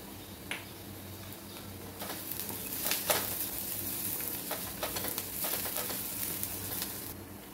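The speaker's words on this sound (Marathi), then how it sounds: "जे खोबरं आपण घेतलेलं आहे त्यामधलंच थोडंसं खोबरं यामध्ये टाकून घ्यायचं आणि छान भाजून घ्यायचं" Onion, cashews, charoli seeds, garlic cloves and coconut roast in a pan with a steady close sizzle and crackle. Sharp pops and stirring clicks break through now and then.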